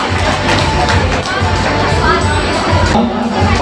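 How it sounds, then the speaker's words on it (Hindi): Audience at the Patan Girls College farewell 2022 applauds a student being honored, a dense, steady wash of crowd noise and cheering that stays loud throughout without letting up. "रिद्धि जैन, जोरदार तालियों से स्वागत कीजिए बच्चे का"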